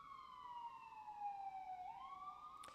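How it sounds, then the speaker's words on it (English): An emergency siren passes outside, a single loud tone sliding slowly downward and then rising again, heard alone over quiet room background before a brief click at the end. "And here comes the first siren of the day."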